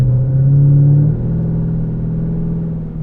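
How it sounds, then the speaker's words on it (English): A loud, deep V8 exhaust on a Pontiac G8 GXP sedan drones steadily, with a low rumbling tone that shifts slightly in pitch, close and continuous with no talking. "It's a pretty loud exhaust system, that's for sure."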